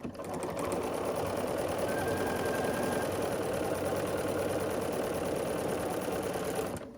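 A sewing machine stitches diagonally across quilt squares in one continuous run of rapid, even needle chatter and motor whir lasting about six seconds, close and alone.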